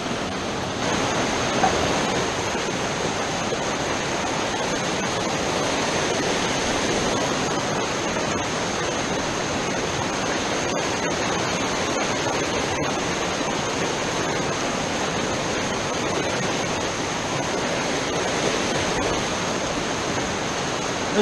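The fast-moving Gunpowder River rushes in a loud, unbroken roar, a steady broadband churn close by with no voices.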